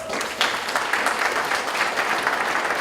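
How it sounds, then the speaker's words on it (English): An event audience gives sustained applause for the speaker's wife Katie, dense clapping from a large crowd with a few sharper individual claps standing out, fairly loud and without talk. "She deserves way more applause than that"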